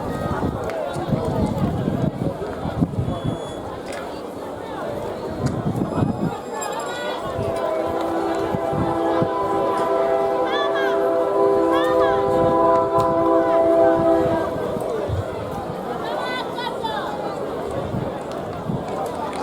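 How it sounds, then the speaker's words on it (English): A train passes in the background at a school boys' 200m track final in Jamaica, its horn sounding in long sustained tones at middle distance beneath a commentator's continuous voice and crowd noise. "So as we hear the train in the backdrop"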